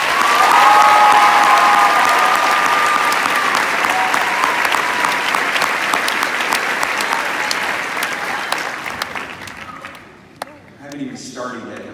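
An audience at a high school commencement applauds to welcome a faculty speaker, a loud, steady wash of clapping that holds for several seconds, then fades out as a voice begins speaking near the end.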